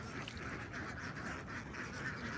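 Egg-laying ducks on an Indonesian farm quack continuously as a dense, steady flock chorus, close and fairly loud, with no talk over it.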